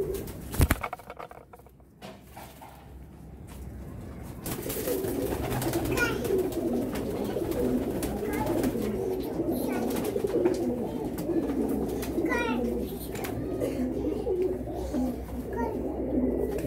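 Pigeons kept by a fancier coo in a steady, overlapping murmur that rises after a quiet start and continues throughout, moderately close, with faint bird calls and some indistinct background voices.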